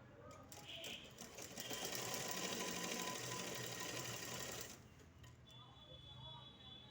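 A sewing machine stitches a half-inch seam on a rain-cut pant, running in one steady, fast-whirring burst of about three seconds before stopping, with quieter handling noise around it.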